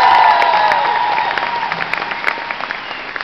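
Concert audience in a Berlin hall applauds an opening act, a dense, loud wash of clapping that starts full and slowly thins and fades over a few seconds, with no talk over it.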